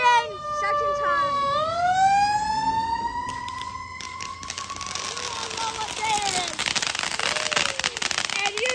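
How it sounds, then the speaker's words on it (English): A fire truck siren wails on the Fourth of July, sweeping down and then rising into a long, loud, steady tone, with sharp crackling bursts like fireworks building up toward the end. "Here goes the fire truck, boys."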